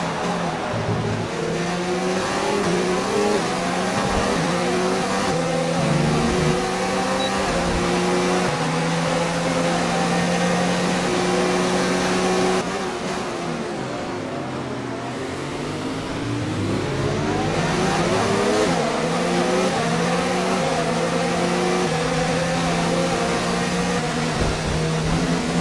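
A race car engine in a racing game holds a loud, continuous drone throughout, its pitch dipping and sweeping back up around midway as the car brakes and accelerates out of a corner, with no talking.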